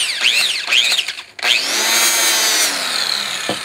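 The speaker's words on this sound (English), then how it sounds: "Got a straight shaft grinder." A straight shaft grinder spins a coarse black emery polishing wheel against aluminium. The high whine is loud and close, with a brief dip in pitch as the wheel loads up before it runs steadily.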